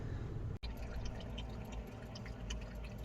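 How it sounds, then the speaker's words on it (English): A dog lapping water from a drive-thru cup in the back of a car on a road trip, quick wet laps and drips repeating over a steady low road rumble, with no voices. "You can hear Mabel drinking back there"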